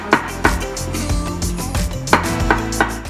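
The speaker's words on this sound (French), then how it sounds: "Je vais couper mes champignons en petits morceaux." A knife chopping mushrooms into small pieces on a cutting board for a chicken and mushroom risotto, with irregular sharp close cuts over a busy kitchen background.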